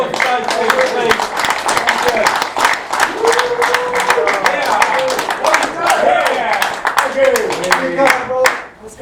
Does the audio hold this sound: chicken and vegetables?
no